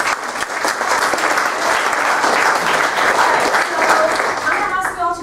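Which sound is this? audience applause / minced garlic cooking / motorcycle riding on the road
audience applause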